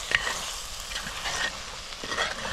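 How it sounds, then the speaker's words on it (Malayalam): A spatula stirs sardine thoran, made with coconut oil and bilimbi, in a hot pan. Soft scraping strokes sit over a continuous close sizzle, with no talk. "എന്നിട്ടിത് നമുക്ക് നന്നായിട്ടൊന്ന് ഇളക്കി"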